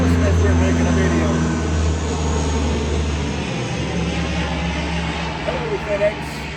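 Low, steady engine drone of an airplane coming in to land, a continuous rumble running the whole stretch with gradual fading and a few small bumps near the end; a person talks faintly at times over it.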